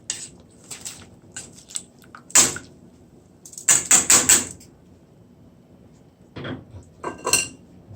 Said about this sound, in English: The quinoa is this. I'll be adding in the pot now.